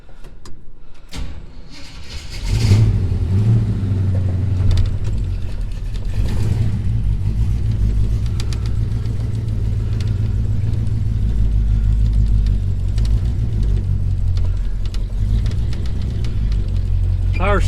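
A 1978 Jeep J10 engine starts up with a brief clatter, then settles into a steady, close, deep rumble as the truck backs up in reverse, holding an even drone to the end.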